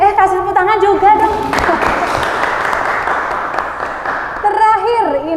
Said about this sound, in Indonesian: kasih tepuk tangan juga dong